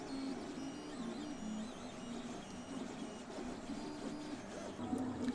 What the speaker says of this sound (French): appuyez à nouveau sur la molette et la tête se déplace vers le coin suivant